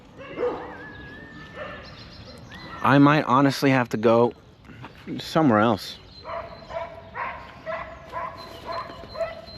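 Dogs bark in several loud, close clustered bursts, with yips in between, while someone talks over them.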